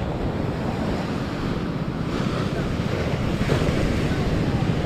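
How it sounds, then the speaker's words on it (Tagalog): Large ocean waves crash and surge around a small boat at sea in steady, loud broadband roar, with wind buffeting the microphone throughout and the wash swelling slightly toward the end. "Lalaki ng alon"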